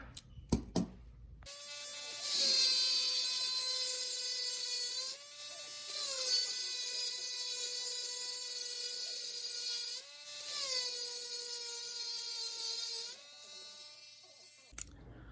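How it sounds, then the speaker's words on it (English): A high-pitched rotary tool whines in three long bursts, its pitch dipping as the bit bites into a steel rivet on a toy car, with short pauses between runs. "we're going to drill out that rivet and pop this baby apart"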